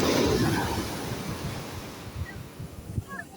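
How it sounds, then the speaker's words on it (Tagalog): Strong ocean surf pounds the shore during rain, a loud rushing wash that slowly fades into softer, choppy splashes and gusty wind. "Lakas ng alon guys, naulan."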